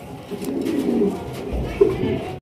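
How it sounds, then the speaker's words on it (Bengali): A pair of pigeons coo softly and steadily at close range, with low rolling calls and a brief sharper note near the end, with no clear talking. "সত্যি অনেক সুন্দর একজোড়া কবুতর।"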